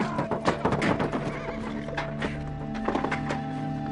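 A horse whinnies loudly, close by, over a steady background hum, with hooves clopping and thudding on the ground as it is led out.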